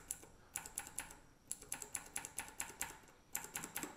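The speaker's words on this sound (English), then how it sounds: "So the Cherry MX Blue is tactile and clicky, and it has 50 CN of actuation force." Rapid bursts of sharp clicks from Cherry MX Blue tactile, clicky mechanical key switches with 50 cN actuation force, typed in quick runs separated by short pauses, close and crisp with no voices.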